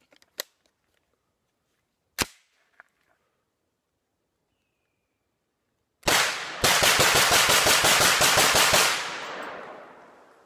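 A Beretta CX4 Storm carbine empties a full magazine in a fast burst of roughly a dozen loud, closely spaced shots. A few sharp isolated clicks and knocks come first, and the last shots ring out into a fading echo.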